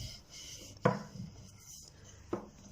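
A wooden rolling pin works dough across a lightly floured kitchen counter, giving two sharp knocks amid soft rubbing and rolling sounds, close and fairly quiet.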